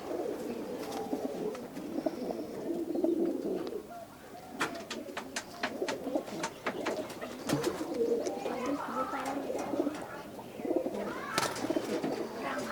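Pigeons coo repeatedly at close range, soft throaty calls overlapping in a steady chorus among a Kolkata flock of magnet pigeons offered for sale, with scattered wing flutters and occasional chirps.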